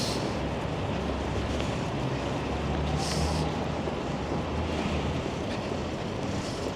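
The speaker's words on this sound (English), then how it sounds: "This wind was in North Carolina yesterday." Strong wind roars steadily along a Manhattan street, a dense continuous rush with low rumbling gusts that swell briefly, loud and close with no pauses throughout.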